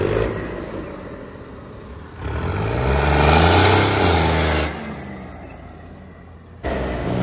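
A bulldozer engine with a fitted turbo revs hard in one loud, rising burst lasting a few seconds, then drops back to a lower idle hum. The machine sounds close.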